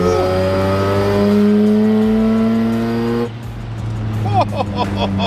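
A Mazda RX-7 FD sports car drives with a steady, loud engine drone and rising harmonic tones, then the note drops and shifts to rougher revs with a few sharp gear-change blips near the end.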